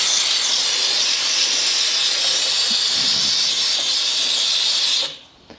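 A steam cleaner gives off a loud, steady hiss while cleaning a bike. It holds for about five seconds before cutting off abruptly, leaving faint quiet.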